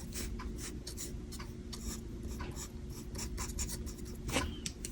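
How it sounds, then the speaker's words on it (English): Eraser rubbing out pencil marks on paper, a run of quick scratchy strokes in an uneven back-and-forth rhythm, close and fairly quiet over a faint background hum. "I'm gonna erase the pencil marks here a little bit."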